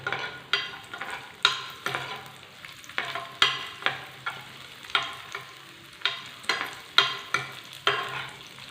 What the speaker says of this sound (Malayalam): ഇത് നമുക്കൊന്ന് വറുത്തെടുക്കാം.